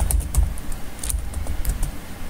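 Computer keyboard typed on at a steady quick pace while entering a name, a run of light close clicks and taps with no talk.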